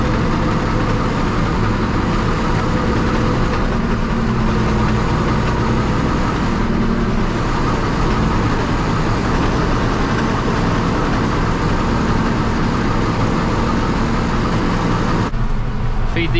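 A tractor pulling a loaded feed wagon toward a cattle shed drones steadily and loudly throughout, a continuous low engine rumble heard from inside the cab with no break.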